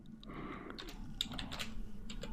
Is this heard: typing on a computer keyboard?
yes